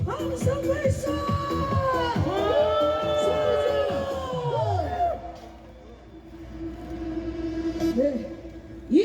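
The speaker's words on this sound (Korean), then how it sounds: "다같이 함성 발사!" A crowd at a political rally shouts and cheers in a loud sustained roar of mixed voices and whoops. The noise swells, then fades to a lower murmur.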